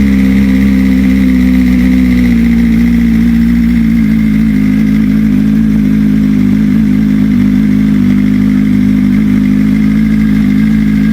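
A BMW M1000RR motorcycle with an aftermarket exhaust holds a loud, close, steady high-revving engine drone, a thick continuous tone with barely any change across the whole stretch.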